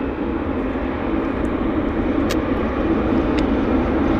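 A fully loaded Boeing 777-300 airliner at Vancouver airport produces a steady, loud engine roar and rumble that holds constant throughout, with faint higher tones on top.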